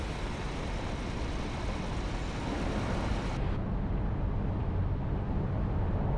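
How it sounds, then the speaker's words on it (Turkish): Steady engine and road rumble from a coach in Fernbus Simulator on a Reims to Dijon route, a continuous low drone with a deep braking rumble underneath, the high hiss cutting off partway through. "ABS'nin sesi öyle çıkabilir mi ya? Frene koduğunan bir gümbürtü kopuyor arabanın altına."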